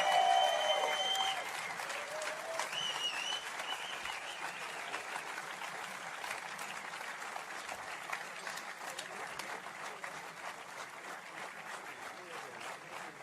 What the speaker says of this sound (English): hopefully you can hear the applause from the crowd